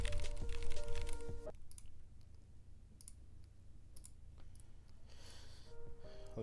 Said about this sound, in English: Let me just do a test of typing.